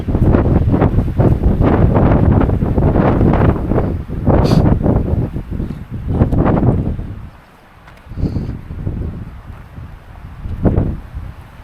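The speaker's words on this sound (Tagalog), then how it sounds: "Lakas ng hangin dito." Strong, steady wind roars against the microphone in broad gusts on Mt. Kabunian, easing briefly before buffeting again.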